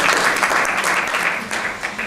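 Applause from an audience at a school strengths-finder session, a brisk burst of many hands clapping that thins slightly toward the end.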